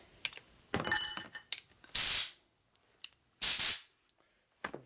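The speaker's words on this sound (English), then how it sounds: "So, got a rubber tipped air nozzle." Compressed air from a rubber-tipped air nozzle, fed by a shop air line and blown through holes in a part, comes in two loud, short hissing bursts with brief handling clatter before and between them.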